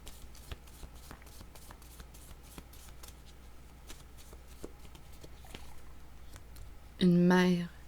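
Cards are shuffled for a card reading, a continuous soft riffling patter heard up close, followed by a brief voice at the very end.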